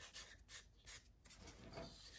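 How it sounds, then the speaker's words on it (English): Folded sandpaper rasps back and forth over the carved wooden bill of a mallard drake duck decoy, a close, quiet series of short scratchy strokes with brief pauses between passes. "And I use that to go on either side and smooth and sand that area."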